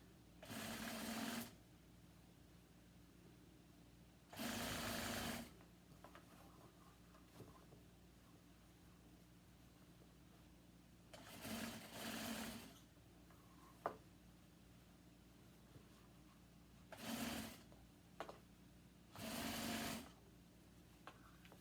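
Sewing machine stitching fabric, running in several short bursts of rapid mechanical whirring separated by pauses while the work is turned at corners, with faint clicks between runs in a quiet room.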